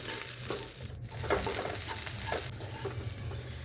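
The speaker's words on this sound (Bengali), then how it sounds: "এক চামচ পরিমাণে ঘি দিয়ে খুব ভালো করে কাজু কিশমিশগুলোকে ভেজে নিচ্ছি" Cashews and raisins fry in a spoonful of ghee with a steady, close sizzle, and a few soft stirring scrapes sound over it, with no talking.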